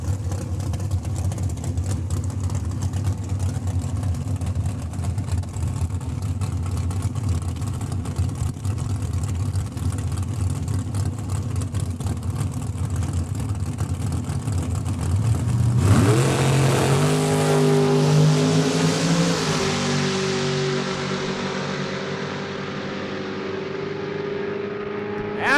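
Drag racing dragsters at Saskatchewan International Raceway roar continuously down the strip, the engine drone building into a loud swelling burst of revving that rises in pitch and then fades away.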